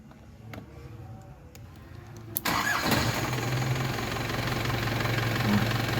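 A car engine cranks and catches at about two and a half seconds, then settles into a steady idle. Before that the starter whines faintly, and the running engine continues loud and close.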